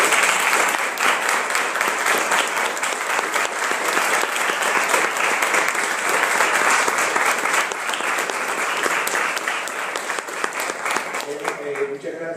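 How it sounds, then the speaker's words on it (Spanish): Warm, sustained applause fills the room from an audience at a book presentation, many hands clapping densely for about twelve seconds before thinning out toward the end as a voice begins to come through. "un aplauso"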